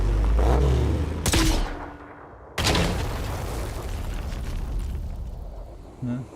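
A grenade blast in the squad tactics game Terror From the Deep: two loud broadband booms a second apart, the second trailing into a long rumbling wash, with a faint voice underneath.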